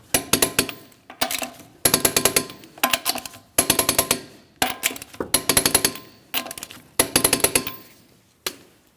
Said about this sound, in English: we can go ahead and torque these lug nuts in a crisscross manner to that 100 foot-pounds